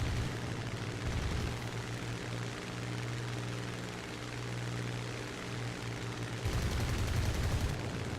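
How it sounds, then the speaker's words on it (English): A flight simulator video game with 50 cal machine guns: a dense, continuous engine drone runs throughout, and rougher, louder fire bursts in toward the end. "Just a few bursts of those 50 cals."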